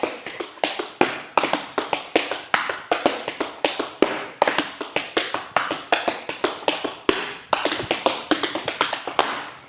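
Crisp, rhythmic tap shoe strikes on a hard floor, fast syncopated patterns with brief pauses between phrases, close and loud.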